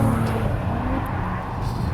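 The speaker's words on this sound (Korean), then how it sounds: "배기 사운드만큼은 정말 뭐 튜닝에 많은 신경을 쓴 만큼 상당히 뭐 역동적인 그런 느낌을 잘 보여주고 있습니다" Maserati Levante S in sport mode, its exhaust giving a close, steady throaty rumble with a low engine drone held for a couple of seconds, moderately loud and with no talking.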